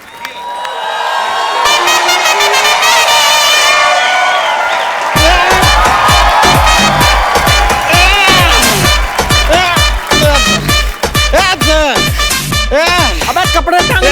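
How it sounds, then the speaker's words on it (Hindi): A studio audience on a Hindi comedy talk show bursts into loud sustained applause and cheering, with whoops and rhythmic clapping over upbeat music, long and close. "जोरदार तालियां नरगिस के लिए"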